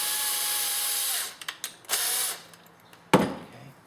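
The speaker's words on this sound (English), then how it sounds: "so I'm going to use my drill. Just grab it, hold it here to protect the plug and twist them up." A handheld power drill spins to twist wire ends together while a car alarm and remote start system is being installed, whirring in a long burst, then a few short blips and another sustained run, with a sharp clatter near the end.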